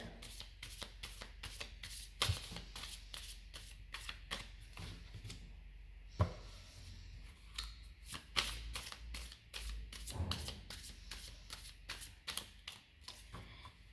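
Deck of cards being shuffled and handled up close, repeated rapid riffles and crisp slaps in quick bursts, fairly loud with no voices.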